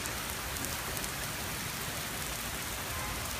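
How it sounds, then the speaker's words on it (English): Heavy Florida thunderstorm rain pours down in a dense, steady hiss of drops striking surfaces, constant and enveloping without a break, and no thunder stands out. "There's a lot of rain. A thunderstorm."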